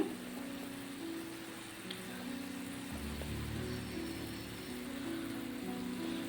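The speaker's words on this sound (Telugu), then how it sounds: "బాగా మరుగుతుంది కదండి" Water comes to a steady rolling boil in a pot on the stove, ready for coconut rice; a faint, continuous bubbling hiss runs throughout with no voices.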